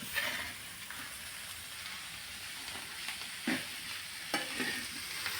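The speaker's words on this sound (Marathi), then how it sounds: "भाजीला हा थोडंसं परतून घ्यायचं आहे कांदा मिक्स करून घ्यायचा आहे" Kurdu wild greens and onion sizzle softly in a hot pan, a steady frying hiss broken by a few scraping stirs of a spatula.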